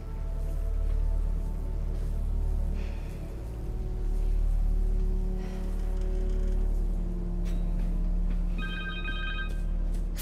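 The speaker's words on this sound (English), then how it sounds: "Connor's cell phone." A cell phone rings in Marvel's Spider-Man 2, a repeating electronic tone over a steady low hum and rumbling background, with no one talking.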